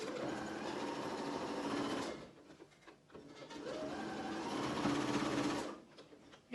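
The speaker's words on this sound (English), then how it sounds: "So now we're going to sew." A sewing machine stitches an Ankara fabric face mask, running in two steady, close-up bursts of rapid mechanical whirring separated by a short pause.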